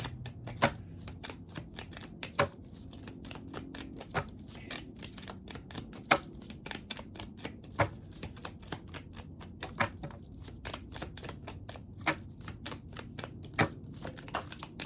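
Tarot cards being shuffled and drawn in a sharp, rapid run of crisp riffling snaps and flicks, close and fairly loud throughout, with no talking.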